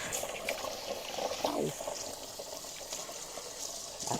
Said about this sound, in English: so I'm going to run some water.